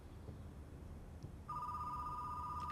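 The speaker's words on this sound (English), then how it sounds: "Let me answer the phone here." A telephone rings in the Retro Rewind video game, a steady electronic two-tone trill that starts partway through and continues loud and alone over a faint background hum.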